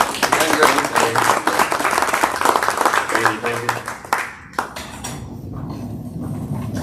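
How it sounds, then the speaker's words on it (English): A seminar audience at an RV maintenance talk claps in a dense, loud round of applause that fades out after about four seconds, leaving quieter room noise. "Give him a round of applause."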